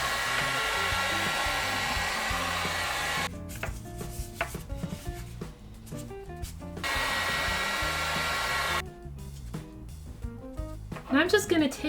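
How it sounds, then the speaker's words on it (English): A heat gun blows a steady roar while a foam piece for a robot arm is heat formed, broken by quieter gaps with soft handling noises and a brief voice near the end. "I think it'll be easier to heat form these separately"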